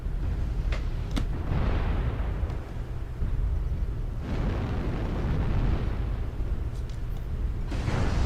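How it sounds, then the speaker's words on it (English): Artillery strike explosions from the MechWarrior Online game rumble as heavy, sustained low booms, with a few sharp cracks and a fresh blast swelling midway, loud and continuous throughout. "Artillery strike online."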